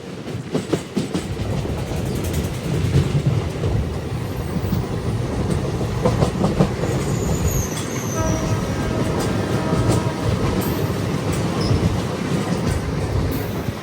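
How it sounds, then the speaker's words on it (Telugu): A Chennai–Mumbai express with ICF coaches behind a WAP-4 electric locomotive rumbles steadily over the Krishna River bridge, loud continuous wheel roar with faint squealing tones rising midway, no voices. "Chennai Mumbai train ICF కోచ్తో run అవుతుంది. వ్యాప్ 4 లోకోమోటివ్."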